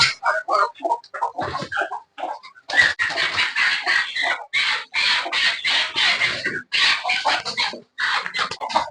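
A hen and two restless roosters cluck close up in a coop, first in scattered separate calls and then in a denser run of overlapping clucks.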